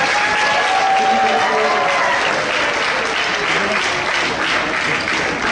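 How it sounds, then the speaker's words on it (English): A lecture audience at a business institute gives sustained, even applause for a speaker, loud and close throughout with no clear pauses. "Let's give her a big round of applause."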